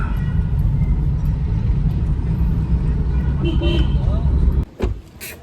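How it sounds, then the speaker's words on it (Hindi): Road traffic in a market area on the Delhi to Kedarnath route, a continuous near rumble of passing cars and engines, with a brief thump and rustle near the end. "गाड़ियाँ दोनों तरफ थे"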